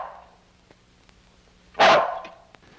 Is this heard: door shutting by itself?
no